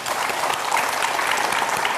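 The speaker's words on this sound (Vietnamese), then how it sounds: "Chúng ta dành cho bạn một tràng pháo tay." A studio audience gives a steady round of applause for a contestant leaving a Vietnamese TV quiz show, dense clapping holding at an even level for the full two seconds with no voices on top.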